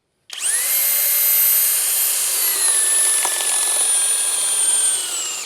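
A Flex power tool in turbo mode drives a fastener down into wood with a loud, high, steady whine that starts suddenly and holds nearly constant for about five seconds, up close and without speech.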